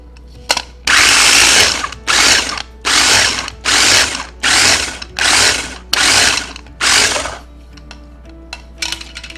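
Spinach roughly chopped in a small electric chopper, seven loud whirring pulses about a second each, separated by short pauses, close up with no talk.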